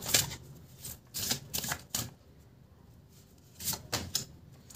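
A tarot deck is shuffled by hand, with several quick crisp riffling bursts separated by short pauses, close and fairly quiet, with no talking.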